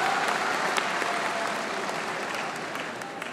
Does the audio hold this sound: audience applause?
yes